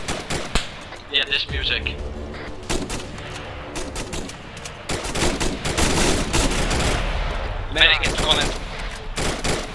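Enemy gunfire in a combat video game during a cavalry forward operating base defence: dense bursts of rapid automatic shots and single cracks, some near and loud, mixed with music and voices talking over the firefight.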